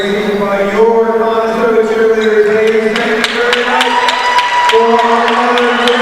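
The Conestoga cheer team chants in unison at a girls basketball game against Methacton, loud rhythmic voices ringing through an echoing gym, with an announcer talking over the cheer.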